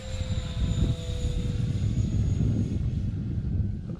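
An Air Tractor model airplane making a high-speed pass, a continuous motor drone with a whining tone that holds steady and then slowly fades as it moves away.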